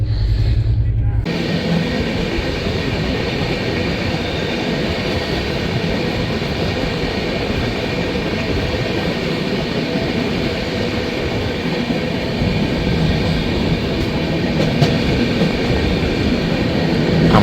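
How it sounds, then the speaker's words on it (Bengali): Sealdah New Delhi Rajdhani Express train running toward Gaya, heard from inside a 2AC coach as a steady, dense low rumble and hum, continuous and moderately loud from start to finish after a brief muffled opening. "এখন ট্রেন তো গয়ার দিকে যাচ্ছে"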